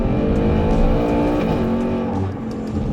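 A powerful 5-liter double overhead cam V8 in a Ford Mustang GT roars loudly and continuously, holding a high rev with a deep, rumbling exhaust note.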